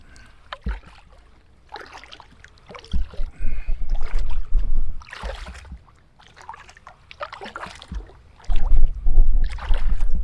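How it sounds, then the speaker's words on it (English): Kayak paddle strokes pull through river water on the River Stour in Kent, a steady series of close, splashing surges every second or two, with wind brushing in between. "awful lot of resistance as my paddle's going"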